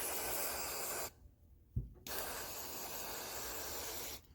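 Carburetor cleaner sprays onto the carburetor of an original 1980 John Deere 317 in two long, close hissing bursts, with a brief gap and a small knock between them.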